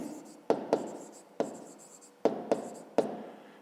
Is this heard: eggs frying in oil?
no